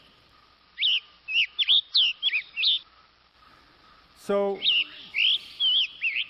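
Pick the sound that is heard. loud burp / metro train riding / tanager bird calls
tanager bird calls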